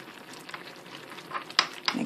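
Flour being mixed into cooked orzo in a pan, a soft, low sizzle with a few sharper spoon scrapes toward the end, close and fairly quiet, with no talking.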